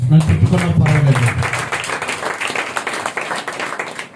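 Church congregation clapping hands during a Sunday worship service, a dense burst of applause mixed with voices and a preacher's speech, loud at first and tapering slightly.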